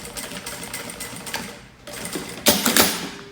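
Straight-stitch sewing machine running in quick bursts while sewing a wallet, stopping and restarting for backstitches, the needle rattling close and steady with a louder final run.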